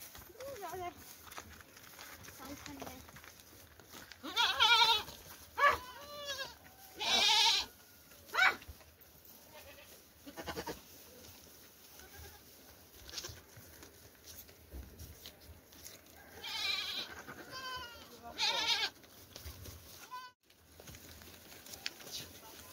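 Goats grazing give several sharp, wavering bleats in short bursts, some close and loud, over a quiet outdoor background with people talking now and then.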